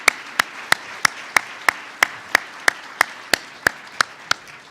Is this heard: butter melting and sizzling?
no